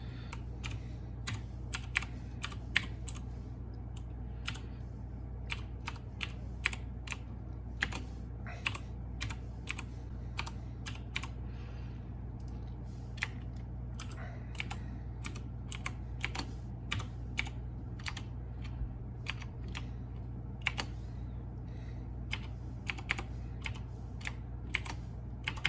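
Fingers typing an Apple ID and password on a computer keyboard, sparse individual key clicks in uneven bursts over a steady low electrical hum.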